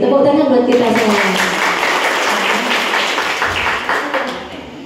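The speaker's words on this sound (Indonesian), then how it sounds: "Tepuk tangan buat kita semua" An audience at the opening of a life skills training event claps together, a short burst of applause that rises over a voice speaking at first and then fades out over a few seconds.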